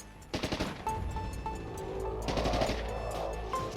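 A burst of gunfire in a tabletop role-playing session, heard as a rapid rattle of close, loud shots followed by sustained rumbling fire and echoes, with no voices.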